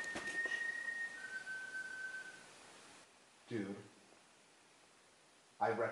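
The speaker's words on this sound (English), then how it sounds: "I've just heard a whistle" A single high, steady whistle tone sounds faintly inside a mine for about two seconds, then a brief lower pitch follows, with a hissing background and a couple of short noisy bumps afterward.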